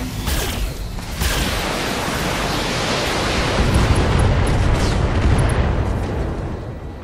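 A mech blows apart in BattleTech combat: a sharp initial blast followed by a long, loud roaring rumble of fire and debris that swells and then slowly tapers off.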